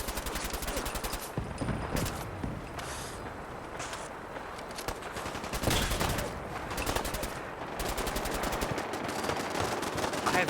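Automated turrets in the Fallout 4 video game fire in sustained rapid bursts of gunfire that run almost continuously, loud and dense, with brief lulls between volleys.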